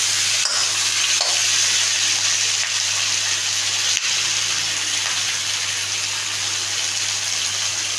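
Vegetables such as pointed gourd, ridge gourd, eggplant, pumpkin and taro frying in a pan for a traditional hilsa fish curry, a steady broadband sizzle with stirring, continuous and close throughout.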